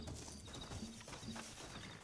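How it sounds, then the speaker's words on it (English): Horses in the Red Dead Redemption video game, soft hoof clip-clops with a brief whinny tone, quiet and short against a low game ambience. "Looks like Carlos left us some horses."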